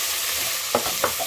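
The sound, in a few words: deglazing the lentil bolognese pan with wine, sizzling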